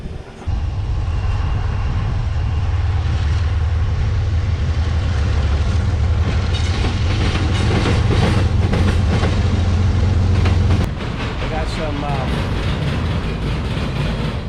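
A loud, steady train rumbles past up close, a heavy low roar with clattering that continues for several seconds before easing slightly.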